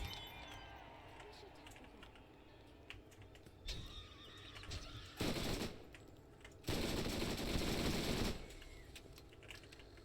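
Rapid automatic gunfire from the Double Anarchy SMG in Borderlands, bursting loudly in two long stretches of sustained fire amid quieter game effects and lighter clicks.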